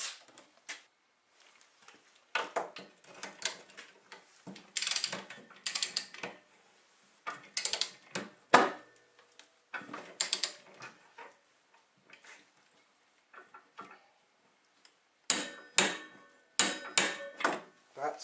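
A torque wrench tightens a Polaris clutch bolt on a TX 440 snowmobile, producing bursts of quick metallic ratcheting clicks close by, separated by short pauses.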